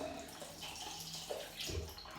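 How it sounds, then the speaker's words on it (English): Water runs faintly from a tap to rinse a Gillette King C double-edge razor during a wet shave, a quiet steady splash with small gurgles. "a quick rinse off."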